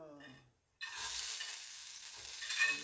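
Garlic hitting hot oil in a wok-style pan, a sudden burst of sizzling after a brief lull that then holds as a steady bright crackle, with a faint voice just before.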